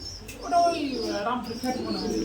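Fancy and Pakistani breed pigeons at a pigeon sale coo in a soft, low rolling murmur, with several overlapping calls close by and a person talking over them.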